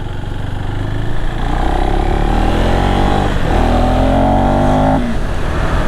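A KTM 390 SMC R single-cylinder motorcycle engine pulls hard and steadily up through the revs, climbing in pitch through a gear before a brief dip and another rising surge, loud and close with no voices.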